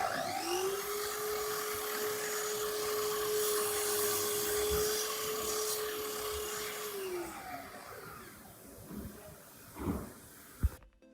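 Miter saw spinning up and cutting, a steady high motor whine held for several seconds before winding down, followed by a few knocks and clatters.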